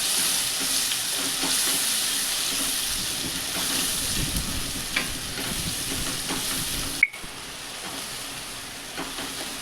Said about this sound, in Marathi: मसाला छान परतून घ्यायचा तेल सुटेपर्यंत